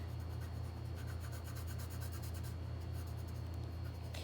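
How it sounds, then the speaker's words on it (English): A pencil held on its side colours in a paper puppet craft, making a continuous close, scratchy rubbing with a steady back-and-forth rhythm. "Color in with the side of my pencil."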